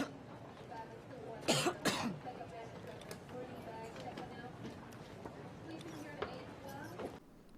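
A woman coughs twice in quick succession, close and sharp, followed by faint rustling and quieter background sounds, in a scene from the film Contagion.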